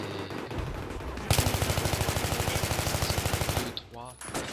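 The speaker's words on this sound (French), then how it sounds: "je tire comme un fou, je recharge" Rapid automatic gunfire in a first-person shooter on the Operation Metro map: a steady burst of evenly spaced shots lasting over two seconds, loud and close, then a reload-like mechanical clatter.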